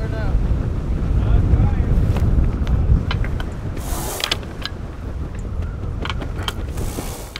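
Strong wind buffets a sailboat at sea on the edge of a hurricane, a loud continuous roar with gusty microphone rumble, rushing water and brief rattling bursts from the rigging and boat.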